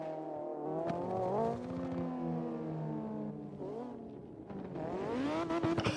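A white Mazda Miata with a body kit on a drift course sends out a continuous engine drone, its pitch sweeping up and down as it revs and lets off, loud and fairly close.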